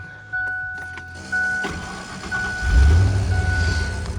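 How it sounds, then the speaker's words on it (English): 1995 Ford Explorer engine starting: a few faint clicks and a whirring cranking tone, then the engine catches with a loud low rumble and settles into a steady nearby idle. "I'm gonna go ahead and start this beauty up real quick"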